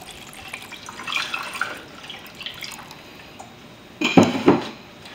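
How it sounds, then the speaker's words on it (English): Iced tea is poured into a glass, with faint trickling early on and then a louder splashing burst toward the end, close and without talk. "I'm gonna pour myself a glass"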